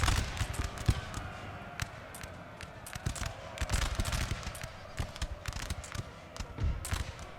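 Musket volleys in the video game Napoleon: Total War, a Prussian campaign battle, crackle as rapid, scattered shots and distant popping fire over a steady battlefield rumble, with no talk.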